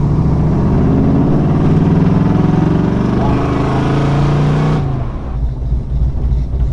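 A 1930 vintage car arriving with its engine running, a steady, fairly loud mid-pitched motor drone close by that cuts down abruptly near the end, leaving quieter idling rumble.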